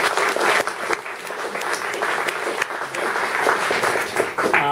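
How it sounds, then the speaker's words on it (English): Audience applause at a public info night on a ranked ballot initiative in Toronto, dense and steady clapping from a crowd filling the whole moment at close range. "Let's have a round of applause for these folks."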